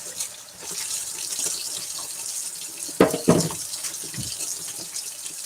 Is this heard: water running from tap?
yes